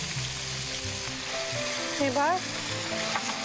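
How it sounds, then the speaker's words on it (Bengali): Tomato sauce goes into a hot pan of cooking chickpeas, raising a close, steady sizzle with a short squeaky sputter midway; a voice speaks a single word at the start. "এবার এর মধ্যে টমেটো সসটা দিয়ে দেবো।"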